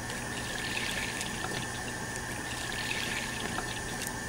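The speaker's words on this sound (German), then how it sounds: "jetzt wasche ich die Blätter ein bisschen mit deinem Wasserhahn" Water runs steadily from a kitchen tap over vegetable leaves being rinsed, a continuous close splashing hiss with small shifting spatters as leaves pass under the stream, no talking.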